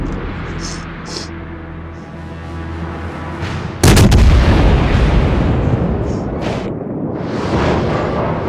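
Low-caliber ship guns firing in World of Warships, a sudden heavy boom midway that rolls into a loud, sustained rumbling roar after a quieter droning stretch.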